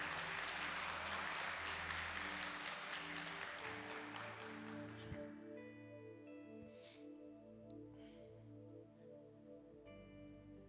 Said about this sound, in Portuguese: Aplauda Jesus por essa palavra.